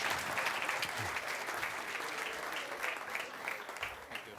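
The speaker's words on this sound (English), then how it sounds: "Please give a big, big round of applause to Miroslav Lajcek, Václav Kolaya, Peter Sia" A crowd applauds, dense clapping sustained for several seconds at moderate distance.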